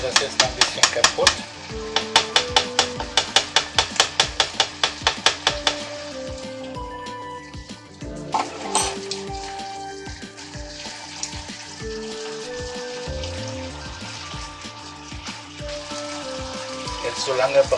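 Bacon and an egg frying together in a pan, a steady sizzle under a run of rapid rhythmic ticks and clatters early on, then irregular tapping and scraping, close and moderately loud.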